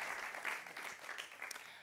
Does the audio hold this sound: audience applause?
yes